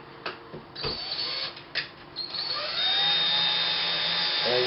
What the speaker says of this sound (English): we use our driver to drive it together